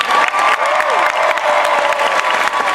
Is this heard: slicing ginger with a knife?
no